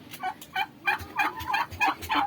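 Poultry on an egg farm calling in a rapid series of about eight loud, close gobbling bursts, one after another with short gaps, no talk.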